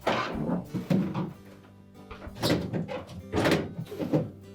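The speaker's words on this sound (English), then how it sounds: "And then we'll put the drawer in place." A plastic deli drawer on a Whirlpool refrigerator slides into place on its track, several soft thunks and scraping slides close by, with no talking.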